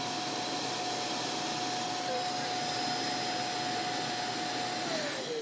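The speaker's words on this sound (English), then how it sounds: "there's a very powerful vacuum which takes the contents of the dustbin and sucks it into a sealed bag" A robot vacuum's base station empties its dustbin into a sealed bag, the powerful vacuum roaring loudly and steadily for several seconds with a high whine, then the pitch drops as it starts winding down.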